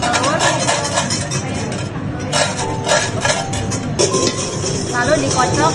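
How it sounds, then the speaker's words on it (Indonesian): A whisk clinks rapidly against a bowl while egg yolks are beaten with lime juice, in bursts of quick metallic stirring with brief pauses, close and fairly loud. "Lalu dikocok sampai mengental"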